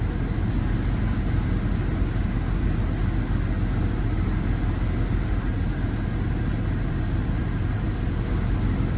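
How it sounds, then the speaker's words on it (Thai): A Jeep WJ with the 4.0 engine idles smoothly after new ignition coils and spark plugs, a continuous, even, close engine drone with no stumbles, heard alone throughout. "เครื่องยนต์เดินเรียบดีปกติ"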